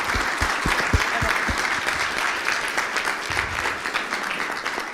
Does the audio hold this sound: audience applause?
yes